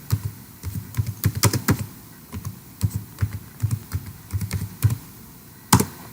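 Someone types a search into Google on a computer keyboard: a nearby run of crisp, irregular keystroke clicks, ending in one firmer tap, with no talking.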